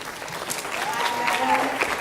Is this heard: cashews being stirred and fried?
no